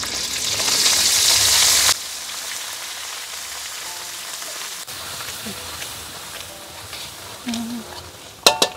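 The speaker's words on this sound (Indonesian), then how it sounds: "Kita tumis." Ground chili spice paste for sambal jengkol sautéing in oil, a loud hissing sizzle for about two seconds as it hits the pan, then a softer simmering crackle with scattered clinks and knocks near the end.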